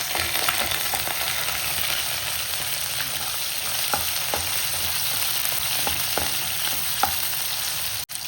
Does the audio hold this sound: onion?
yes